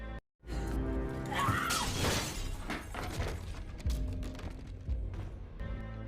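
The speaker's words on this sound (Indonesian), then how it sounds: "ambil mesin ketik dan lempar ke kaca jendela" A typewriter is hurled through a glass window in a film scene, a loud close shattering crash followed by scattered tinkling debris and rattling noises.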